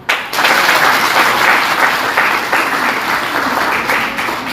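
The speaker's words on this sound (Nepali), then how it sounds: "परमेश्वरलाई हामी ताली बजाउनेछौँ।" A crowd at a Nepali religious gathering breaks into loud, sustained applause, a dense wash of many hands clapping close by for several seconds.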